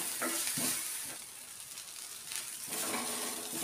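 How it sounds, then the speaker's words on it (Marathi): Onion and tomato sauté in a little oil in a pan, a faint steady sizzle with intermittent stirring scrapes and soft clinks, no voices. "व्यवस्थित परतून घेऊया."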